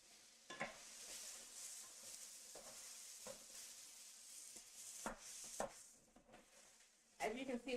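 Vegetables, including carrots, being stir-fried in a pan for fried rice: a soft, steady sizzling hiss broken by repeated short scraping stirs of a utensil, fairly quiet and close.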